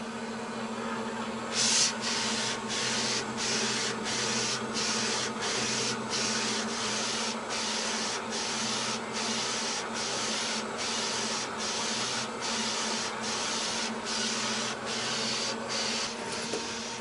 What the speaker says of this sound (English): the machine will automatically draw the shirt back in and start printing the color on top of